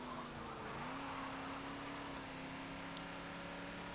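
A 1978 Ford Mustang II King Cobra in Forza Motorsport 7 gives a steady, low engine rumble with a sustained drone that barely changes pitch across the few seconds, with no talk over it.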